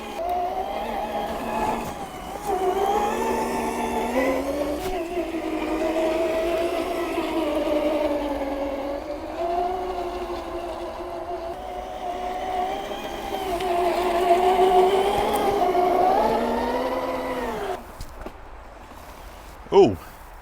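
A $5000 custom-built RC truck drives across turf, its electric motor giving a loud, wavering tonal whine that rises and falls with the throttle, ending with a sudden thud; people talk over it.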